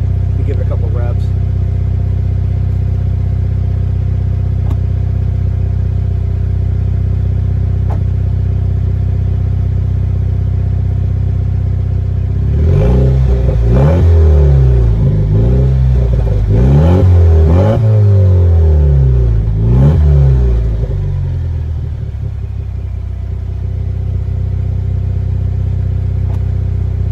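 A 2021 Jeep Wrangler JL 2.0 turbo with its muffler removed idles loud and rough, then revs hard several times in quick bursts before settling back to a low, throaty idle.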